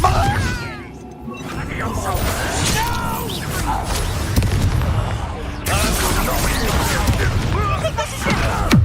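A Confringo spell explosion in the Hogwarts Legacy video game, a dense roar of blasts and crackling mechanical clatter that continues through the clip, briefly dipping before surging again, with shouted voices mixed in.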